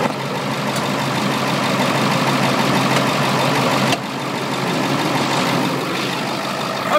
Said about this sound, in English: There's the engine